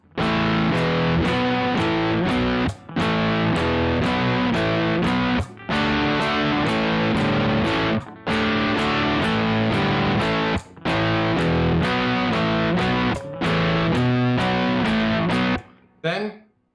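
Distorted electric guitar plays a riff in repeated phrases broken by short sharp stops, loud and close, with a brief voice at the very end.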